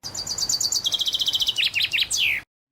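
Bird chirp sound effect: a rapid string of bright, high tweets that speeds into trills and ends with a falling chirp, loud and close, then silence.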